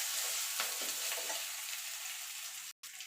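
Black mustard seeds and chopped ginger are stirred in hot oil, giving a continuous bright sizzle with a few scraping strokes of a spoon, close and fairly quiet, broken by a brief silent gap near the end.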